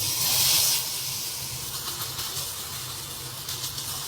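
Cooking oil hisses hard as it hits a hot pan for a lunch being prepared, a loud burst of sizzle fading after the first second into a steady, softer crackling hiss.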